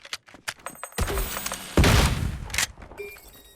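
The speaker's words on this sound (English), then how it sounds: "Grenade out." A grenade explodes in the tactical shooter PUBG: Blindspot: a sharp blast is followed by a heavier booming burst with a crackling, rumbling tail, amid scattered game clicks and gunfire-like pops.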